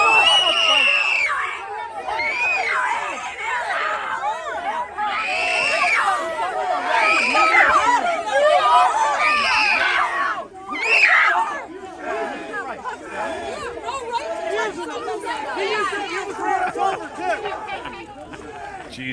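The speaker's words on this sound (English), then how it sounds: "watch this woman screaming at the top of her fucking banshee lungs" A woman screaming at full volume amid a crowd at a protest, long shrill wails rising over loud shouting and chatter that persists throughout.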